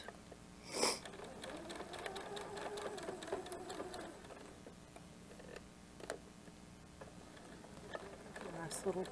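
A sewing machine runs a short back stitch on a fabric water bottle cozy with a handle, giving a steady close whir for a few seconds, then pausing amid light clicks and handling noises.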